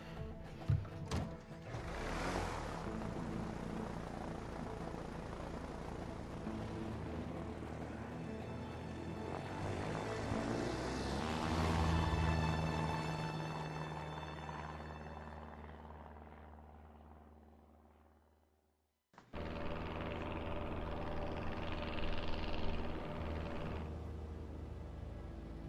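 An airplane's droning propeller engine in the A Way Out video game hums and rumbles steadily, swelling and easing off before cutting briefly and resuming at a constant loud level.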